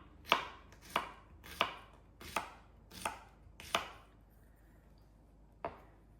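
Okra is cut with a knife on a board in six evenly spaced sharp chops, then a pause and one last chop, close and crisp with no talk.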